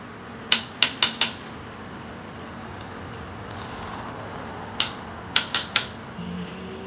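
Click-type torque wrench on a Nissan RB engine build tightening nine small bolts in sequence: sharp metallic clicks, a quick cluster of four, a pause, then another burst of four, close and crisp over a quiet room.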